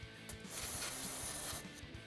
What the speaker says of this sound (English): Remove the old gasket and clean the gasket mating surfaces.